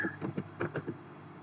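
Computer keyboard keys pressed in a short burst, several quiet distinct clicks close by in a quiet room.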